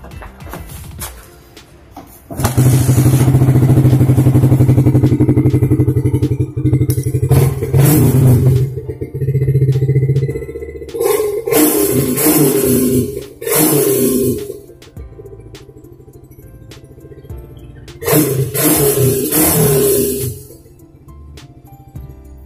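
A Yamaha Vixion motorcycle catches on the kick starter and its engine runs with a loud close rumble, revving up and settling in several bursts, with quieter idle gaps between them.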